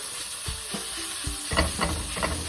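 A flattened burger patty sizzles in bacon grease on a hot pan, a steady frying crackle with a few soft scraping presses from a spatula near the start, then brighter bursts of spattering.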